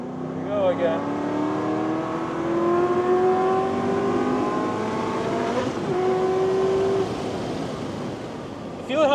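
An Aston Martin Vantage race-tuned project car accelerates hard, its engine note climbing steadily in pitch as power surges, briefly dropping at a shift before rising again, loud and close with some cabin noise.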